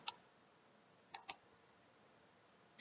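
Computer mouse clicks while selecting with a polygonal lasso tool in an image editor: four sharp, quiet clicks, one alone, then a quick pair, then one at the end, over a faint background hum.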